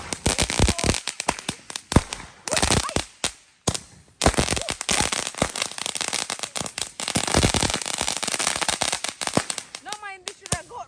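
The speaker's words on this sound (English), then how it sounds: "That is fireworks." Fireworks explode in rapid bursts of sharp cracks and crackling pops, some loud and close, in irregular clusters with short gaps, while voices talk in the background.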